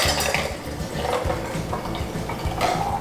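Fall sangria with fruit strained into a glass: liquid pours and splashes while fruit chunks and utensils clink against glass and pitcher, steady and close.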